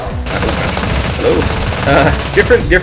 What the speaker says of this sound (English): this heavy revolver is nicer than I thought